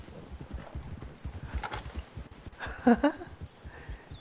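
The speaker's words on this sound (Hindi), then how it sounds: "भाई साहब को तो दे दी लात उस घोड़े ने।" Horse hooves in Red Dead Redemption 2, soft repeated clopping under busy game ambience, with a brief louder thump near the end as the horse kicks a man.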